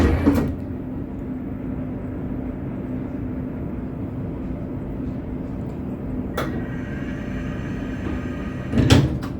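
A Transport for Wales Class 756 FLIRT train's door ramp retracts over a steady onboard hum, with a brief clunk at the start, another around six seconds in, and a louder knock near the end.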